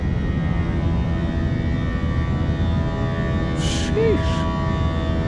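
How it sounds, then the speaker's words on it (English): Fenix A321 airliner engines climbing in Microsoft Flight Simulator 2024: a steady, loud turbofan drone with tonal whine holds throughout, while a person briefly exclaims near the end. "That sounds like a real damn airplane."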